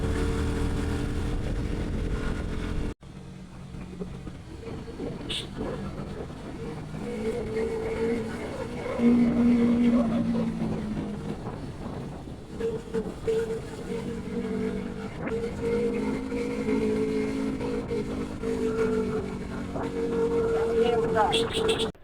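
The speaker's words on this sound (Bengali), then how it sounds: "আমি বাইক নিয়ে সামান্য এই উঁচুটুকু উপরে উঠতেছি" A motorcycle climbs a short steep slope in low gear on the road to Sajek, its engine droning steadily with a rising strain, heard under wind noise and someone talking.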